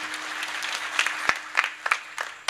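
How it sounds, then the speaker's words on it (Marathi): An audience at a Warkari kirtan claps to welcome a guest, a short burst of scattered, uneven handclaps close by that thins out over a couple of seconds. "आपण टाळी वाजवून स्वागत करू एकदा बाबांचं"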